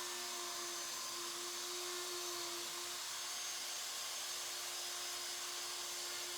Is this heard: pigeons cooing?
no